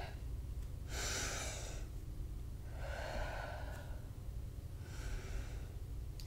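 Slow, deliberate breaths during a yoga session, three soft airy exhales spaced a couple of seconds apart, close and quiet over low background hiss.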